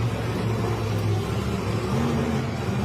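Monster truck engines rumble and rev at a rally, a deep steady low-pitched growl with slight pitch swells, loud and continuous over about three seconds.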